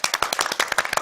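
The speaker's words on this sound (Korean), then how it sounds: "박수, 박수" Audience clapping for Rahab during a Korean Bible class broadcast, a quick burst of fairly faint, rapid hand claps lasting about a second.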